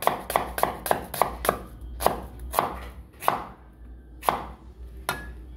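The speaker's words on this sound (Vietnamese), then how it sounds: "Với hành tây này các bạn cũng sẽ băm nhỏ" A knife minces onion rapidly on a cutting board, a quick run of sharp taps slowing to scattered, separate chops.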